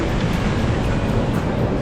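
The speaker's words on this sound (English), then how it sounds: "And here we are, the Pacific Ocean." Pacific Ocean surf off the coast of Lima, Peru, a steady, loud wash of breaking waves with broadband roar and wind rumble, continuous and close, with no voices.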